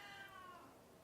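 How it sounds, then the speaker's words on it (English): A house cat lets out a single drawn-out, wavering meow during a fight between cats, faint and close by, with a short sharp click at the end. "my cats are fighting"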